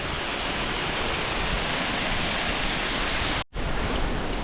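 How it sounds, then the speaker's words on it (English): Dense, steady rushing hiss of heavy rain pouring down near a waterfall, loud and unbroken apart from one brief cut near the end. "Okay, rain's getting heavier."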